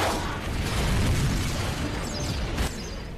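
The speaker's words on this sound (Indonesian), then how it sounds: "Helikopter meledak." A helicopter explodes after being struck by a rocket in the action film Resident Evil: Apocalypse, heard as a loud, sustained blast roar with dense rumbling debris that stays heavy for the full length, no talk over it.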